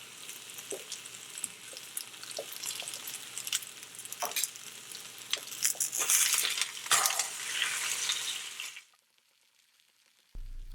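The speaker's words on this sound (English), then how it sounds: "While the potatoes are frying in my cast iron pan" Potatoes fry in a cast iron pan with a steady crackling sizzle, louder pops and spatters building toward the middle, then the sound drops away abruptly near the end.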